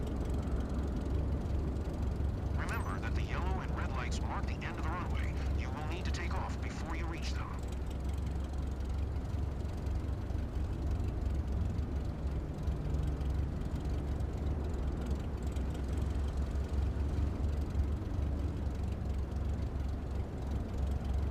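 An aircraft taxies in Microsoft Flight Simulator 2024 on PS5, with a steady low engine drone throughout, a brief burst of clicking mechanical switch sounds early on, and faint talk mixed in.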